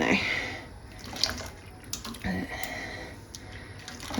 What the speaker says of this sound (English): makes it a bit easier to dip this in and out of the water